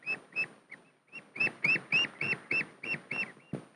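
Ducklings raised by a hen on a 1950s farm give a run of high, piping peeps, about a dozen evenly spaced calls, close and clear with little else around.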